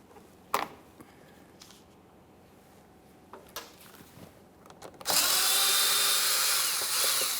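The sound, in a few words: power drill removing 7mm mounting bolts on GMC Acadia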